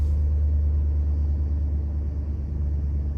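A 2011–2014 Dodge Challenger engine idles just after starting, a steady, loud low rumble that holds constant and close with no voices.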